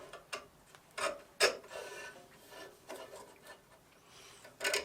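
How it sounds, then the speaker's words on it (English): A knife handle profile is scribed into a G10 slab, heard as faint, intermittent scratching strokes in short bursts over a quiet workshop background. "I'm going to etch, I'm going to scribe the profile"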